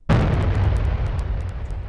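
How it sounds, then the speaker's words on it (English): One deep video game explosion sound effect, heard in a Unity game, booms abruptly and rumbles away, its low tail fading over a couple of seconds. "you will immediately hear that explosion."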